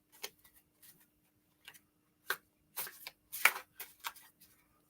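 A deck of tarot cards is shuffled up close, giving a series of quiet, irregular riffling flicks and soft slaps separated by short pauses in an otherwise quiet room.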